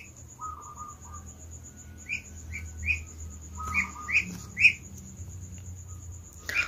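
Plump, healthy Muscovy ducklings give a series of short, high chirps, some in quick clusters, heard moderately close over a low steady background hum.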